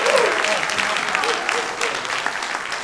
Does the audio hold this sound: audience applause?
yes